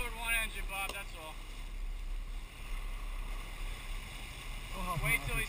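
A tuna fishing boat's engine runs steadily at sea, a constant low rumble with wind and water noise, while people talk briefly at the start and end.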